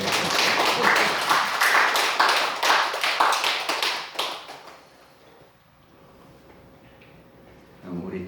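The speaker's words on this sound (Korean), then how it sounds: "박수 나와야 되는 거 아니에요?" Dense group clapping from a congregation at a Won Buddhism temple sermon, lively and steady for about four seconds before quickly dying away into a quiet room.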